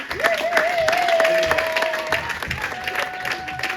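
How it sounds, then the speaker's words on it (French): An audience at a Mother's Day church event applauding with steady, fairly loud clapping for several seconds while a voice rings out over the crowd. "On va applaudir."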